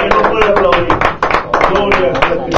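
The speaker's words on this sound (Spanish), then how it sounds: "fuerte aplauso a la gloria del Señor" Church congregation clapping in a quick, fairly even rhythm, with a preacher's voice talking loudly over the applause.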